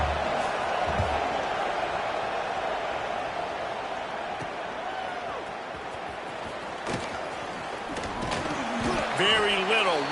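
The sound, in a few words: stadium crowd cheering punt return, College Football 26 video game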